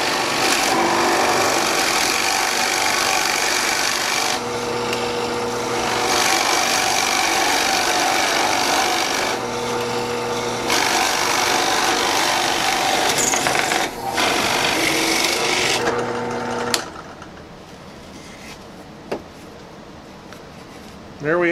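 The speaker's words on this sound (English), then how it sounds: "And as you drill with one of these, back out occasionally and let the chips clear." Spade bit boring an inch-and-a-half hole through wood for a simple birdhouse, a loud steady power-drill whine with periodic pauses as the bit backs out to clear chips, ending in quieter handling noise.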